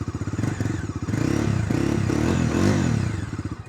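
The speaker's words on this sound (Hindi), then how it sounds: "अगर मैं आपको डोमिनार की आवाज़ सुनाता हूँ तो डोमिनार की आवाज़ जो है कुछ ऐसी मिल जाती है।" A Bajaj Dominar 250 motorcycle with a dual-muffler exhaust idles and revs nearby, a loud, throbbing engine pulse that swells in the middle of the clip and then settles back to a steady chug.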